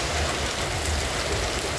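Rain falls steadily and densely in Santana do Ipanema, a continuous close wash of drops on surfaces without any speech.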